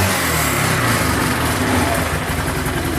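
A Yamaha Ultramatic engine revs steadily and loudly, a constant buzzing drone held for the whole stretch with no talk over it.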